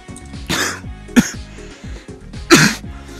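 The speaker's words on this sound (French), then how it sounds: "j'ai quand même une petite toux" Two or three short, harsh coughs from one person with a slight cold, the loudest near the end. A low background tone runs under them.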